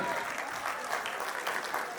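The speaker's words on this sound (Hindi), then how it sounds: "एक बार जोर से तालियां बजाएं इनके लिए।" Guests at a 25th wedding anniversary kirtan gathering applaud, a brief, dense wash of clapping heard at a distance and fairly soft, with voices mixed in.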